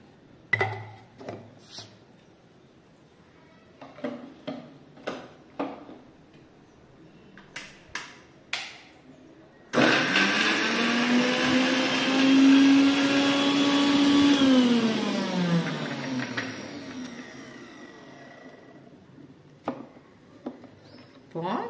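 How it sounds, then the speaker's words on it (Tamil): A kitchen mixer grinder blitzes onion, garlic, green chili and cumin for chow chow kootu, roaring loudly for about six seconds and winding down, after scattered clicks and handling knocks. "வெங்காயம், பூண்டு, பச்சை மிளகாய், சீரகம் இதையெல்லாம் பரபரன்னு அரைச்சி எடுத்துக்கலாம்."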